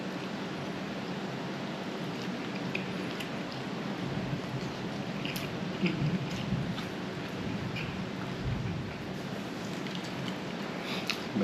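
Rain falls steadily outdoors, a constant soft hiss with scattered small patters of drops, evenly loud throughout with no talk over it.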